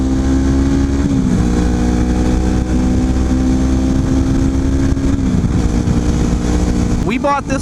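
A 250cc motorcycle engine idles steadily and close, with a low, even drone that shifts pitch briefly near the start and end, then a sharp rise at the end like a quick rev.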